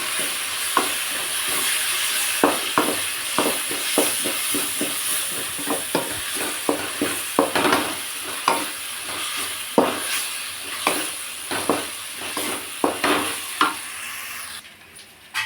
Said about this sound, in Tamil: ஆட் பண்ணிட்டு நல்லா அதை கிண்டி விட்டுக்கணும்.